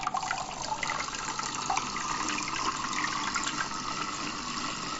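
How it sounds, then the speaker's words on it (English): Water poured into the filter compartment of a BluePet BLH 401 hang-on aquarium filter: a steady, continuous splashing pour lasting several seconds, close and fairly loud, with no talking. "I'm going to take a little bit of water and fill this compartment there."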